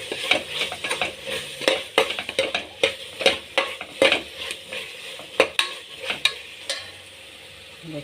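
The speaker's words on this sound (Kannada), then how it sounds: "ಇದಕ್ಕೆ ಕೊತ್ತಂಬರಿ, ಪುದೀನ ಹಾಕಿ ಫ್ರೈ ಮಾಡೋಣ." Tomato, potato, coriander and mint being stir-fried in a pan: repeated sharp spatula scrapes and knocks in an uneven rhythm over a low sizzle, close up, settling into quieter frying at the end.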